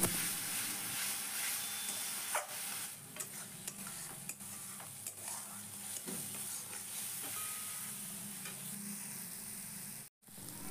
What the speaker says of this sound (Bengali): যতক্ষণ না মশলার কাঁচা গন্ধটা চলে যাচ্ছে আর মশলা থেকে তেল ছাড়ছে, ততক্ষণ কিন্তু আমি মশলাটাকে সুন্দর করে কষিয়ে নেব